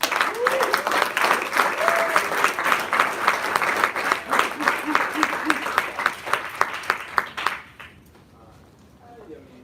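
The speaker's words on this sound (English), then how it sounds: "a big round of applause, Mr. Mike Bromwich" An audience applauds and cheers in welcome for a speaker taking the stage, a dense and loud wash of clapping with a few voices calling out. The clapping thins and fades away near the end.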